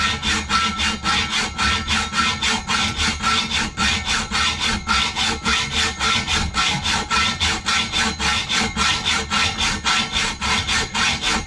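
A hacksaw cuts through a large copper pipe in steady back-and-forth strokes, each a loud rasping pass in an even, rapid rhythm, close up with no talk.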